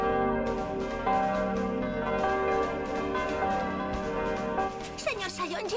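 Resonant bells ring steadily with a sustained, layered tone, and a voice speaks briefly near the end over the ringing.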